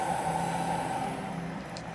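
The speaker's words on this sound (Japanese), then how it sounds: "室外機が車体の下の部分にあって今回ってる。" The outdoor unit of a compact kei-truck camper's 12V air conditioner, mounted under the vehicle body, runs with a steady low droning hum and a sustained midrange tone, fairly quiet and unbroken.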